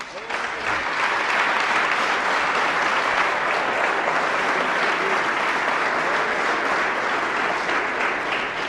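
A large church congregation claps continuously, dense and loud sustained applause filling the room from start to finish.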